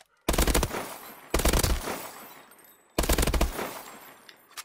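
Gunfire in the video game Call of Duty: Advanced Warfare, aimed at chest shots: three loud, close bursts of rapid automatic fire, each trailing off into a fading echo before the next begins.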